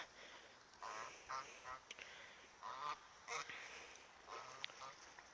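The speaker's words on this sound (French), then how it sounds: "Vous voyez il y a beaucoup de poules d'eau, que ce soit des canards et tout ça." Ducks and moorhens calling repeatedly in the distance, short nasal honks and quacks scattered over a faint outdoor hiss.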